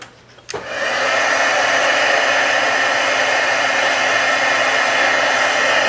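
A heat embossing tool blows hot air steadily over a single-layer card with a buffalo check overlay, switching on abruptly after a brief click and holding a loud, constant whirring roar.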